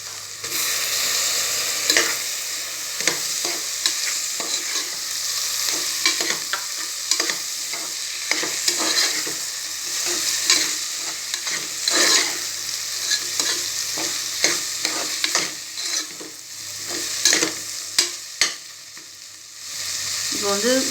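Chopped tomatoes sautéing in a hot pan for chana biryani, a loud continuous sizzle and crackle broken by frequent scraping and stirring strokes, close up and without talk.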